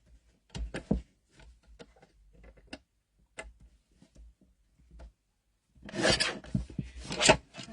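Scissors trimming a strip of craft paper along pencil marks, a series of soft close snips and rasping cuts, then a louder rustle of paper handling at the end, no talk.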